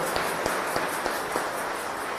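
A congregation applauding for the Lord during a Catholic Mass, steady, fairly faint clapping heard from a distance with a few sharper individual claps standing out.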